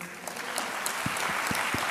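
A church congregation claps together during a Telugu sermon, a steady wash of hand claps that rises briefly and holds at a moderate, even level throughout.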